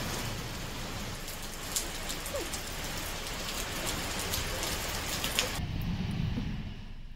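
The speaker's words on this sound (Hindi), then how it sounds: "तेज आंधी से के साथ ही बारिश भी हुई है" Steady heavy rain pours down during a strong storm with gusting wind, a dense continuous hiss that stays loud throughout, with a brief sharper patter of drops near the end.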